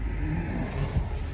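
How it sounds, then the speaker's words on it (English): A 2006 Mercedes-Benz CLK 350 drives along with its windows down. Its engine hums quietly under steady road and wind rush. "I still enjoy driving it with the windows down"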